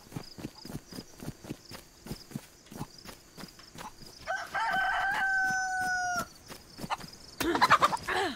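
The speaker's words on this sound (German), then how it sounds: "Ich habe einen Huhn erlegt." Chicken in the video game DayZ, with repeated sharp clucking calls in a steady rhythm, followed by a drawn-out squawk and a final burst of agitated noise, fairly close and without talk.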